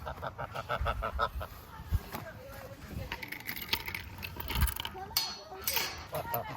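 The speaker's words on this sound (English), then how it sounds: "Make sure the geese do not get out." Several geese honk repeatedly at close range on a cold-climate flower farm homestead, their calls rising and falling under a person's voice, with some clinking and jangling in the background.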